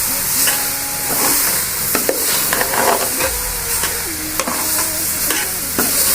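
Bhindi masala gets stirred in a frying pan: loud, close sizzling and hissing, with repeated scraping and clinking of a spatula against the metal in uneven strokes, and no voices.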